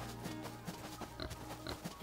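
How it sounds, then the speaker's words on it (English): Pigs oinking in the video game SeaBlip, short soft grunts scattered in a quick irregular rhythm, faint and low in the game's background. "Those are just the pigs."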